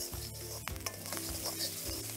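Capsicum and dry red chilies stir-fry over high flame, a dense close sizzle broken by scraping and clacking of a spatula against the pan, steady throughout without any talking.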